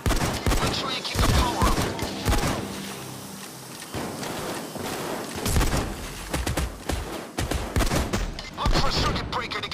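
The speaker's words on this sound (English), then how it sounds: "What the fuck was shooting me?" Intense gunfire in the heist shooter Payday 2, repeated loud bursts and volleys recurring throughout, with a player talking over the shooting.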